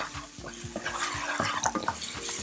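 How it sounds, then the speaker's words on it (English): Peppers sauté with onions in a pan for a spicy, sweet and sour deviled chicken, with soft sizzling under a steady rhythm of a utensil stirring and scraping against the pan, close up and fairly quiet. "I'm going to add in the peppers. Give it a very light saute."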